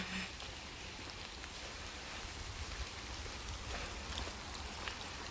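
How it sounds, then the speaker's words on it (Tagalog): Rain falls steadily in an autumn forest, a continuous hiss with scattered nearby drops tapping on leaves and surfaces, growing slightly fuller over several seconds, with no one speaking. "Kasi lumalakas na yung ulan."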